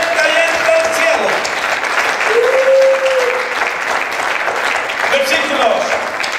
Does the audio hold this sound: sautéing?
no